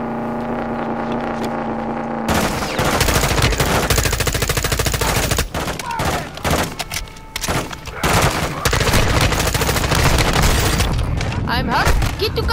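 Rapid automatic gunfire and heavy booms in the video game Call of Duty MW2, loud, dense bursts of shots over a low hum, with shouting voices mixed in.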